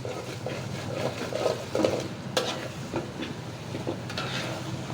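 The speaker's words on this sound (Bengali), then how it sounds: "আস্তে আস্তে করে এখন আমটা দিয়ে দিচ্ছি" Mango pieces tipped into a pan of spices for pickle, giving a string of soft irregular clatters and scrapes with a few sharper knocks, close and fairly quiet.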